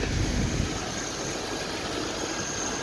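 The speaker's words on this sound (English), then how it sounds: "Engine runs very well." A car engine runs at idle with a steady, low, even hum and no revving, fairly quiet and heard alone.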